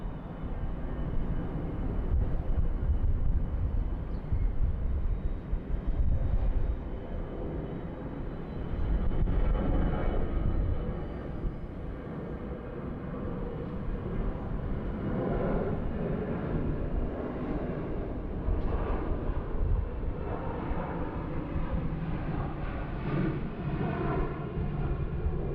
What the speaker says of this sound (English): It's Vietjet Air A321 just commencing takeoff roll now.